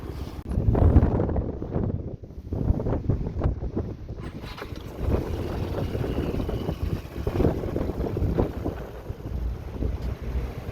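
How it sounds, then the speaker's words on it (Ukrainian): Strong wind buffets the microphone in loud, rough gusts that rise and fall throughout, with no voices. "Дуже сильний вітер."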